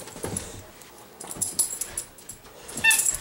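A playful dog whimpers and yips in short, close bursts, with rustling movement between the high whines and no talking.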